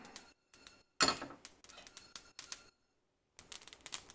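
Whole spices toast in a dry pan, popping and rattling in quick irregular bursts with short pauses between them, close and fairly crisp.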